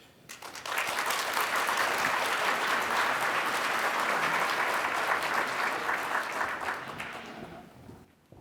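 An audience at an awards lunch claps steadily, loud and sustained for several seconds, then dies away as the speaker returns to the stage.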